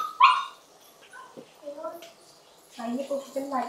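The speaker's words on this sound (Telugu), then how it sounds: "మనం తలుపు తీయట్లేదని వస్తున్నాయి కుక్క పిల్లలు." Puppies outside a closed kitchen door let out whines, yips and small barks in scattered bursts. The calls are close but not loud, with brief quiet gaps between them.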